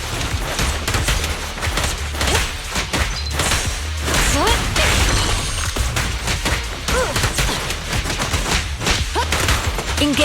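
Sustained gunfire in Zenless Zone Zero rattles on without pause, a dense, loud stream of rapid shots and impacts layered with crashing effects for the whole stretch.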